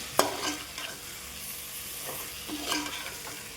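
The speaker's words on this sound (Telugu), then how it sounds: "ముందే వేయించి పెట్టుకున్న ఎగ్స్ని కూడా యాడ్ చేసుకోవాలండి. ఇప్పుడు ఒకసారి కలుపుకోవాలి." Fried eggs and fresh coriander are stirred into an egg dum biryani masala in a pan, giving sharp spoon scrapes and clacks over a steady, close frying sizzle.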